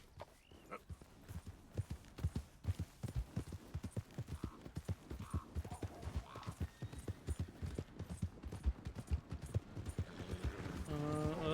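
Hooves clip-clop steadily on the ground as a horse walks in Red Dead Redemption 2, a faint, even rhythm of soft thuds with a low hum behind it and a few brief tonal sounds.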